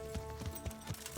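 Horse hooves clip-clopping at a steady trot in Kingdom Come Deliverance, Band of Bastards DLC, with about six evenly spaced low thuds over a faint sustained musical hum.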